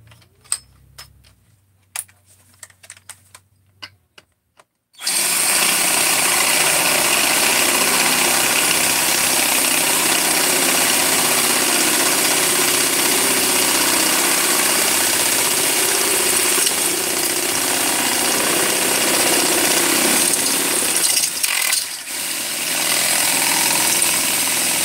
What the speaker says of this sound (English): I'm just going to drill this out